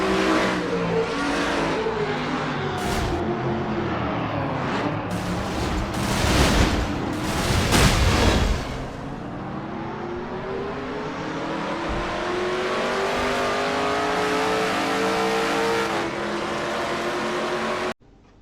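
Onboard engine of a Dodge Challenger stock car in sim racing at Darlington, a loud steady roar that rises and falls through shifts, with a brief crash-like burst and scraping midway, then revving on alone.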